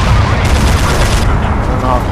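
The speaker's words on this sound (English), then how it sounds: "we got infantry shooting a rifle north of our flag" Rifle gunfire from a military shooter game, a dense burst of shots filling the two seconds, loud and close, with a voice talking over the fire.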